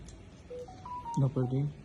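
A phone gives off a short run of electronic tones that step upward in pitch. A voice starts speaking right after them.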